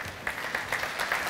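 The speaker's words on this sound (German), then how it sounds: "Herr Strang, Ihr Applaus" Audience applause at a conference stage appearance for a rail safety systems company, modest and fairly close, with a few stronger clapping swells.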